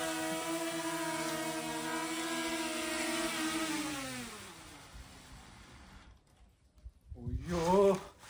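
Drone motors strain under a carried weight, making a buzzing harmonic whine that slides lower and fades over several seconds. After a near-quiet gap, a short rising burst of motor whine follows.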